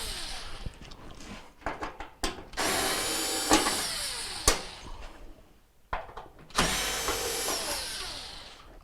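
A cordless power driver backs out T20 Torx bolts on a Whirlpool washer, with short bursts and two long whirring runs, separated by clicks and handling noises, up close.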